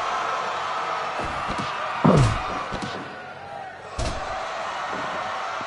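Wrestling bodies slam onto the ring mat during a women's three-way championship match, two heavy thuds landing several seconds apart over a steady crowd roar, with an excited announcer talking throughout.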